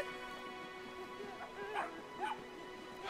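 A dog in the video game Brothers: A Tale of Two Sons gives a few short whimpering yips and barks over steady game music and ambience, moderately close and fairly soft.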